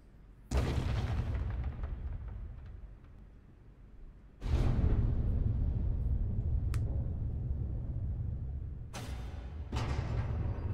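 A rocket explodes in AI: The Somnium Files, a sudden heavy boom followed by a second louder blast and sustained rumble, with sharper crack-like hits near the end.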